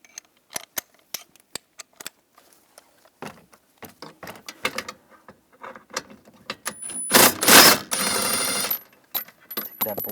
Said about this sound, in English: On this bracket, we're going to take this bolt out. We're going to use a 13mm socket.